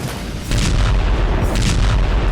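Artillery fire in the Russia-Ukraine war zone around Donbas: heavy booms roll in as a loud, dense rumble, with two sharper bursts about a second apart, close and without talk.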